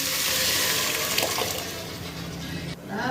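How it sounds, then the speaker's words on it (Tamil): Mashed dal is poured into a pan of sautéed onion and brinjal, a continuous wet pouring and sloshing that fades near the end, with no talk. "நம்ம இப்போ கடைஞ்சி வச்சுருந்த பருப்பை ஊற்றிக்கலாம்."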